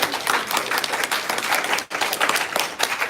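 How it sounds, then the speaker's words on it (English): An audience at an autistic women's panel gives a steady round of applause, dense clapping filling the room with a brief dip midway before resuming. "I think she deserves a round of applause for that."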